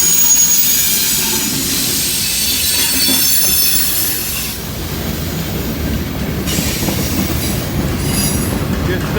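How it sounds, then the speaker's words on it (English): A train rolls steadily past nearby, wheels clattering and squealing on the rails with a constant rumbling roar. "We're caught on this side of the train."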